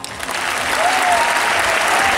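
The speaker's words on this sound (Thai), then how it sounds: "ขอเสียงปรบมือดังๆนะครับ" Loud, steady applause fills the whole stretch as an audience at a formal gathering welcomes a diplomatic guest. The clapping is dense and even throughout, with no clear talk over it.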